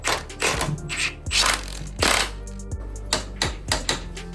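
A ratchet wrench tightens bolts on a 2018 Triumph Street Triple 765 RS motorcycle after a chain slack adjustment, making a close run of rhythmic clicking strokes with no talking.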